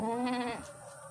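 A single bleat from a pregnant dairy goat on a goat farm, a short wavering cry up close, fading into quiet background noise.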